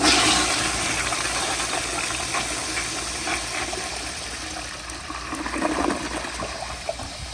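1942 Standard Modernus toilet on a flushometer with a 3.5 diaphragm, a long, powerful flush: a loud close rush of water that gurgles and gradually eases off, heard alone without talk.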